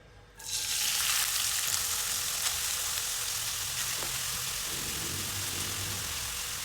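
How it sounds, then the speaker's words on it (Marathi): Grated carrots hitting hot ghee in a kadai, a sudden loud sizzle that settles into a steady, even frying hiss with faint stirring, close up. "तूप गरम झालेले किसून घेतलेले गाजरं टाकू कढईमध्ये"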